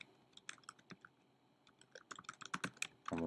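Quiet, irregular key presses on a computer keyboard while entering a Java program, scattered clicks in uneven bursts ending with a louder clatter.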